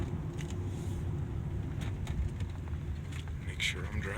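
A 2008 Volvo XC70 accelerating along a road, a steady low engine and road rumble with tyre noise, heard from inside the cabin with faint talk.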